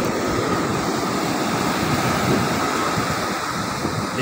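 Surf washing onto a beach at Calangute in Goa, a steady broadband roar with gusty wind rumble across the mic, continuous and fairly loud with no voices.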